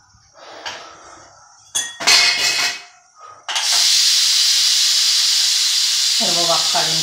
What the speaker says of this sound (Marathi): असं त्याच्यात वाफ आहे